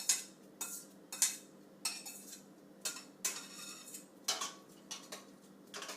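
A spoon stirs gumbo stock and meats in a pot, scraping and clinking against the metal in regular strokes about twice a second, close and fairly quiet, with no voices.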